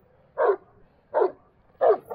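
A Black Sea mountain dog, a large Turkish guardian breed, gives three loud, close barks spaced evenly about a second apart, with quiet gaps between them.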